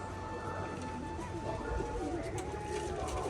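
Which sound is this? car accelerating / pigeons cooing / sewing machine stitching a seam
pigeons cooing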